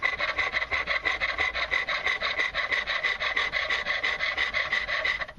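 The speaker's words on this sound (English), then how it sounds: "I'm just kind of blending the shoulder into the tenon here." A hand rasp blending the shoulder into a wooden tenon on a workbench build, making steady, rhythmic scraping strokes, close and continuous with no pauses or talking.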